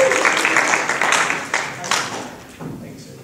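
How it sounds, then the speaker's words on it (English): An audience at a presentation gives a round of applause, starting full and loud, then thinning and fading out within a few seconds. "let's give Jamal a round of applause"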